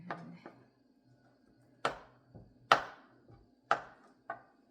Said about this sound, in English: Cut them in cubes